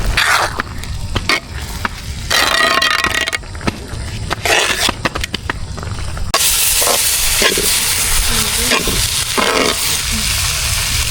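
Brain cooks with onions and chili in a pan over an outdoor village fire, loud sizzling frying broken by repeated scraping strokes of a stirring spatula, close and continuous.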